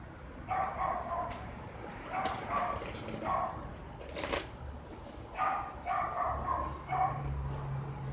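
A dog barks in short clustered bursts, two or three yips at a time, repeated with pauses between, fairly close, over a soft background hum.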